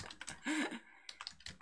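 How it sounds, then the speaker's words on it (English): Typing on a computer keyboard: quick irregular bursts of key clicks, close and fairly quiet, with a short smoother sound partway through. "So you're typing now and talking."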